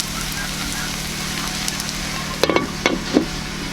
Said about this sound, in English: making a stir fry.